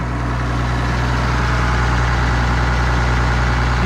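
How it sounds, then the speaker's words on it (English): A New Holland T7.210 tractor engine idles with a steady, loud, low diesel rumble and a constant hum, close by and unchanging, with no voices. "they brought up this tractor here"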